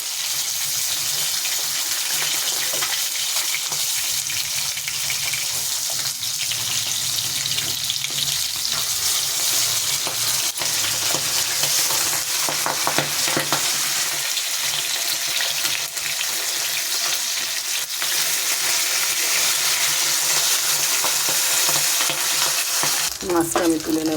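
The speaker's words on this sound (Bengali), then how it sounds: "পাবদা মাছ কিন্তু খুব ফোটে, এটাকে সেইভাবেই আপনারা ঢেকে করবেন" Pabda fish fries in a pan with loud, continuous sizzling and spattering that holds steady throughout, crackling densely close up before stopping abruptly at the very end.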